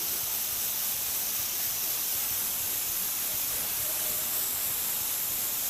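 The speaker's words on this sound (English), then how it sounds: "We'll give this a good spray." A spray glue gun hisses steadily as it sprays adhesive onto upholstery foam for a tuck and roll seat in a Model A coupe, one continuous loud broadband spray with no pauses and no voices.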